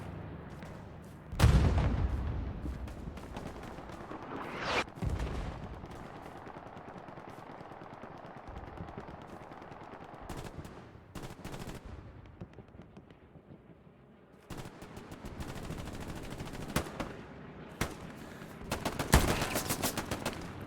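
An MG42 machine gun in a World War II shooter fires in rattling bursts, with sharp loud shots and booms separated by quieter stretches of distant battle noise.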